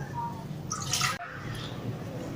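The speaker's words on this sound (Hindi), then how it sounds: "ये मैं पहले पानी इसमें डालती हूँ।" Water is poured from a cup into a pan for making liquid glucose, a short splashing gush lasting about half a second, close and fairly faint against a quiet kitchen background.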